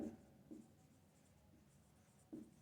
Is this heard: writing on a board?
yes